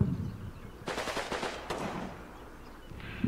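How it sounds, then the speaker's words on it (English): Bursts of MG42 machine gun fire from an infantry team in the WWII game Combat Mission, rapid rattling volleys around a second long separated by short gaps, fairly loud and close with no talk over them. "That seems to be like a normal infantry team with an MG42. And they're shooting at us up there."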